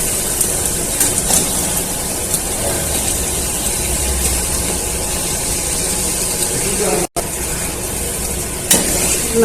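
Eggplant pieces sizzle loudly in hot mustard paste in a pan, a constant close frying hiss with faint stirring scrapes and one brief dropout before the sizzle resumes.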